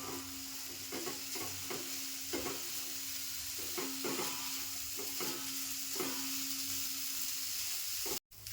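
Bitter gourd pieces roast in a pan with a soft, continuous sizzle and periodic scraping stirs at roughly one-second intervals, fairly quiet and close, with a faint steady hum beneath and no talking.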